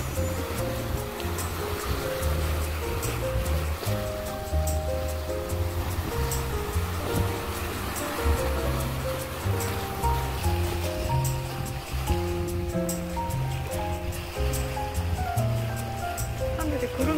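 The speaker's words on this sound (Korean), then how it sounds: "배가 들어오니까 그 파도가 그냥 밀려옵니다." Waves pushed ashore by an incoming passenger ferry at Geumodo island near Yeosu wash in with a continuous rushing surf, steady and fairly loud, overlaid by sustained melodic tones.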